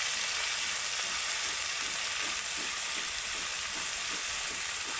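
Spice paste is stirred in hot oil over low heat for an Afghani egg curry, a dense continuous sizzle with soft rhythmic spatula strokes beneath it, close and steady, without talk.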